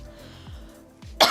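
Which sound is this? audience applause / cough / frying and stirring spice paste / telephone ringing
cough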